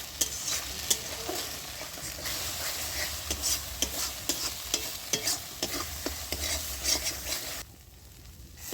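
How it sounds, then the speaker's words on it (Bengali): Spice paste for a jackfruit curry being stir-fried in a pan, a continuous sizzle with rapid, repeated scraping and clinking of a spoon, then dropping off abruptly near the end. "এবার আমি মশলাটা ভালো করে কষিয়ে নেব।"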